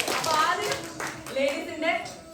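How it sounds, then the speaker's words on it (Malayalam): Applause at a small home Onam celebration, a few people clapping in bursts near and fairly loud, mixed with voices talking and a child's speech. "കൈയടിയും പ്രോത്സാഹനവും."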